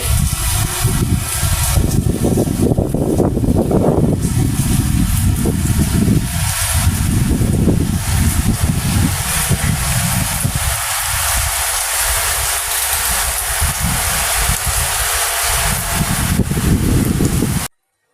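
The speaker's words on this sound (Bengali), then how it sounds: "বৃষ্টি আরো জোরে আসলো" Heavy rain pours steadily during a rainy day at home, a dense, loud, continuous wash of noise that holds unbroken for the whole stretch with no talking.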